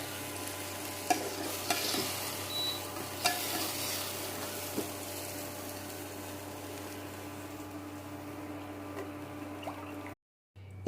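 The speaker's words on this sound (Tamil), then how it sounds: "இந்த ஸ்டேஜில் நம்ம எடுத்து மிக்ஸ் பண்ணிடலாம் அரிசியோடு சேர்த்து" A sautéed mix of ginger, garlic and green chili is stirred in a pan, with occasional scrapes and knocks over a soft, steady sizzle. It is close and fairly quiet, cutting out briefly near the end.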